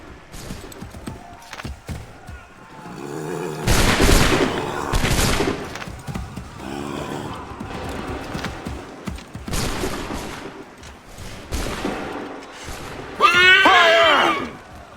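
Musket volleys crack out in Assassin's Creed 3 as loud broadband bursts of massed gunfire, several volleys spaced a few seconds apart over a busy battlefield din.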